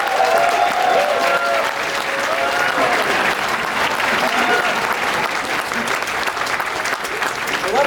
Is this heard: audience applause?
yes